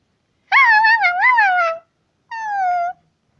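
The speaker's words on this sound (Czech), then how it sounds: "máš krásnýho psa" A pet dog lets out two drawn-out, high, wavering whimpering howls, the first longer and warbling, the second steadier and quieter, in near silence.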